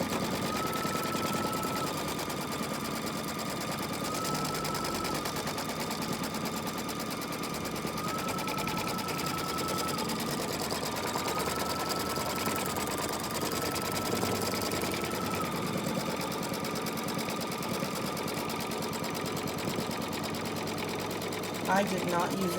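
An embroidery machine stitches the outline of an in-the-hoop stocking, a fast continuous mechanical buzz with a steady whining tone that dips slightly now and then, close and even throughout.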